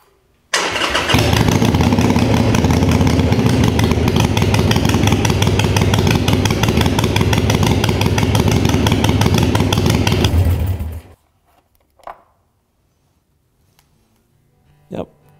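A Harley-Davidson Sportster engine fires up after an oil change and idles loudly and close with a steady rhythmic lope for about ten seconds, then cuts off, leaving a few faint clicks and knocks.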